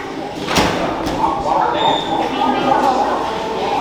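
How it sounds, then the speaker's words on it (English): A shop door is pulled open with a sharp thump and a rattle near the start, and steady room noise and background chatter follow. "Would help if I pulled the right door."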